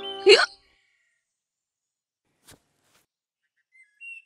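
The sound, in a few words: cartoon child hiccuping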